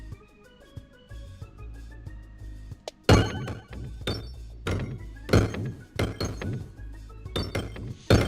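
Red bombs exploding in the game Peglin: a series of loud thunking, glassy crashes with bright clinks, arriving in irregular bursts over a quieter musical backdrop.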